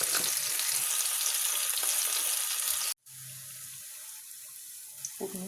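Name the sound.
fried garlic and coriander tasha sizzling onto molokhia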